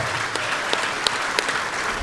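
Crowd applause at a jiu-jitsu invitational tournament after a match ends: steady dense clapping throughout, with a few sharper claps standing out.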